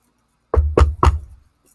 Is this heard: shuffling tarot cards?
no